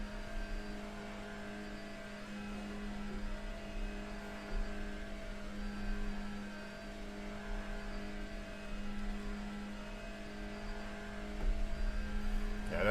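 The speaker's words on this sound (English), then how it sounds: "there goes the BMWs down the straight, look." BMW race cars run down the straight at a National Endurance Championship round, a steady engine drone from a distance that swells slightly as they go by, with no one talking.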